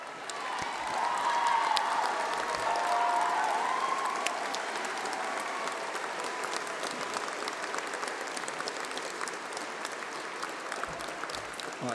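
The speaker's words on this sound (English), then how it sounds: "please stand up as we give you a round of applause" Sustained audience applause at a UCLan graduation ceremony as course reps and school presidents stand, a steady dense clapping that holds for the full twelve seconds with crowd murmur beneath.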